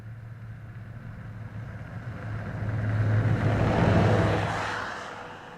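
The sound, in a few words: over-snow vehicle engine noise in Yellowstone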